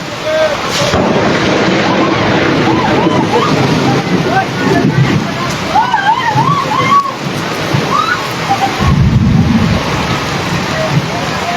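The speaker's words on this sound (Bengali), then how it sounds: "মায়ের মন্দিরে প্রচণ্ড ঝড় বৃষ্টি হচ্ছে" Loud, heavy rain roars and splashes at a temple in Matarbari while someone talks over it, and a deep rumble of thunder rolls in near the end.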